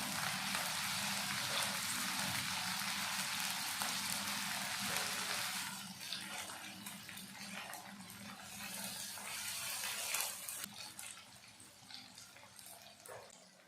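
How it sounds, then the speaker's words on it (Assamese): Crushed ginger-garlic paste frying with onions in a pan for a chicken and banana stem curry; a soft, continuous watery hiss that eases after a few seconds and stays fairly faint. "এইখিনি এতিয়া 30 ছেকেণ্ডমান সময়ৰ কাৰণে ভাজি ল'ম।"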